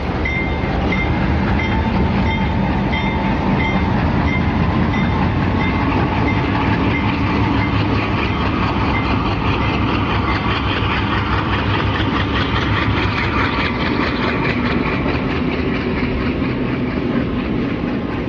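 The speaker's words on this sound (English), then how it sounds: "the fresh power proceeds to couple up to train 51" Fresh diesel locomotives coupling up to freight train 51 on Mexico's Pacifico Railroad, a loud, steady engine rumble and idling drone close by for the whole stretch, with faint metallic rail clatter and no voices.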